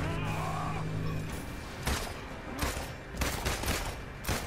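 Gunfire in the video game Marvel's Avengers, shooting at a mine: several sharp, loud bursts of shots spaced irregularly over a few seconds, over a background game hum.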